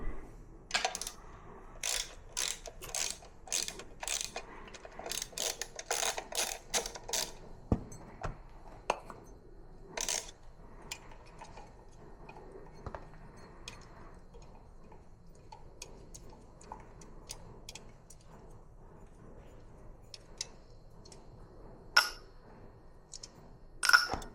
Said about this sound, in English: we have 4 nuts that we need to remove. 2 on either side of the carburetor.